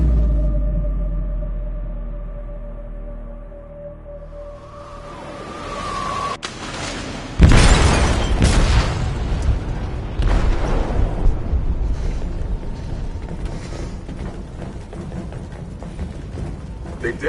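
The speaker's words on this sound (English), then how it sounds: "They detonated an explosive in the hold. The ship is sinking, sir." An explosive detonates in a ship's hold in a video game: after a low droning hum and a creaking tone, a sudden loud boom hits, followed by sustained rumbling, groaning metal and debris noise.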